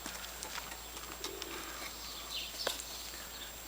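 Domestic pigeons coo faintly in a backyard coop, giving a low, soft murmur over steady background hiss, with a brief chirp and a small clatter near the end.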